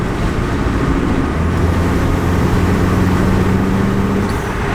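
A 2014 Chevy Cruze RS fitted with a cold air intake accelerates, heard from inside the car with the windows open: a loud, steady engine drone with slowly rising tones, wrapped in heavy wind rush.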